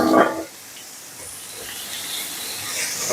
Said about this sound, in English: And I'm now going to add my mirepoix.